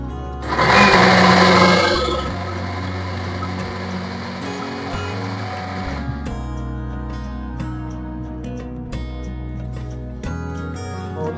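A mixer grinder whirs loudly for a couple of seconds as it grinds masala paddu ingredients, then winds down into a lower steady motor drone with scattered clicks and rattles.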